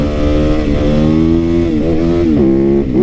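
A motorcycle engine revs hard and loud while doing wheelies, its pitch climbing and dipping in surges as the throttle is worked, steady and close throughout.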